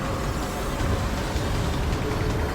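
A truck rumbles past in the Mass Effect 2 video game, a steady broadband road roar that stays loud and close for the whole moment with no clear rise or fall.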